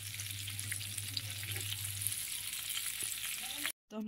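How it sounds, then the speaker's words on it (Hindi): Fish pieces sizzle steadily in hot oil in a pan, a dense continuous crackle with a low hum beneath, close by, ending in a brief cut to silence. "जो बकाया की फिश है वो हम उसको भी हम फ्राई कर लेंगे"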